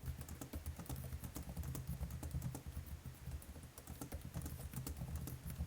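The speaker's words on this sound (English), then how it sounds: "The typing experience is just okay, like all other entry-level gaming laptops." Typing on the keyboard of an MSI Katana GF66 entry-level gaming laptop: a steady run of soft, fairly quiet, non-clicky key taps at an even pace throughout, with no talking.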